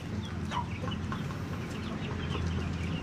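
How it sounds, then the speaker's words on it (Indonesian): Bangkok chickens in a coop cluck and mutter softly, with scattered short calls over low background noise and no talking. "Ini ayam-ayam pada makan. Ini juga, maaf ya, kotor ya tempatnya ya, namanya juga kandang ayam. Ini namanya ayam Bangkok."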